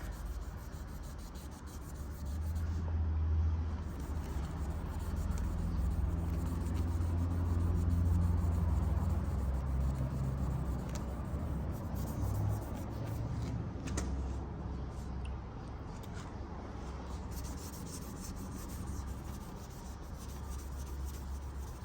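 Cloth rubbing a scuff off a car bumper with gasoline, giving a continuous close scrubbing and swishing that holds steady for over twenty seconds without speech.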